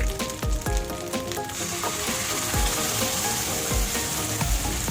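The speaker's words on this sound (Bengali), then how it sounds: "এবার এটা ভালো করে একটু কষে নেব।" Spice paste sautéing for duck egg do-peyaja: a steady, bright sizzle of frying fills the whole stretch, with a few soft spoon knocks against the pan near the start.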